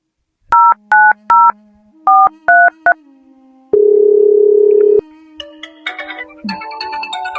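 A telephone number being dialed: a series of short keypad beeps in two groups, then a longer steady tone, followed by ringing and connection noises, loud and close.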